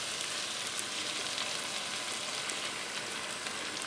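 Coconut milk hits a hot pan of spices with ground coriander and sizzles, a steady dense frying hiss that holds at an even level throughout.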